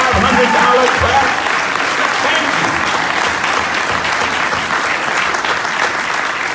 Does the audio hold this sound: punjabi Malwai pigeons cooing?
no